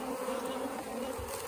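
Honey bees hum steadily around a hive in South Alabama in October, a dense, continuous close-up buzz with no pauses.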